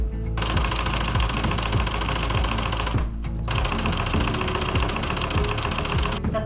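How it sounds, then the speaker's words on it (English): A sewing machine runs a zigzag stitch through canvas, a loud, fast mechanical chatter close by that runs steadily, stopping briefly once before starting again. "I again stitched again along the pumpkin"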